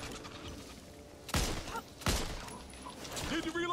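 Gunfire in the zombie shooter game Back 4 Blood, with two loud sharp shots standing out over a steady din of game noise and scattered fainter bursts, heard up close.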